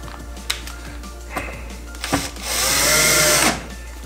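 A wooden spice rack is screwed together: a few light knocks and taps, then a power screwdriver whirs steadily for about a second, close by.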